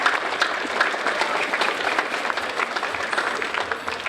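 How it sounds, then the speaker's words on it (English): Steady, full applause from an audience of parents and friends at an elementary school theater arts show, continuous and fairly loud throughout with no clear pauses. "a round of applause."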